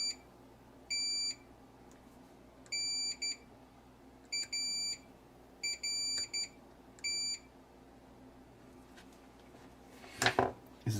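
An electronic device gives off bright, high-pitched beeps in spaced clusters of short double and single tones, about five groups over several seconds against a quiet background hum, followed by a brief rustling clatter near the end.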